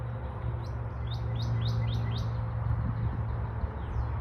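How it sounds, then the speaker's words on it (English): Birds chirp in trees on a nature walk, a quick series of about six bright tweets close together, then a fainter call, over a low steady ambient hum. "You hear these birds?"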